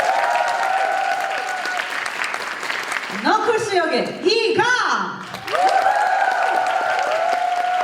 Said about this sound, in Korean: 뜨거운 박수와 함께 맞이해주세요.